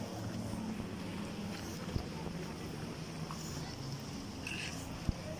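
A boat ride toward the beach at Havelock Island, with a constant engine drone and rushing water and wind noise, and a few faint knocks.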